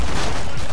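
A dense burst of loud shotgun fire in the video game Killing Floor 2 fills the short moment, sharp shots crowding together with a booming, broadband crack.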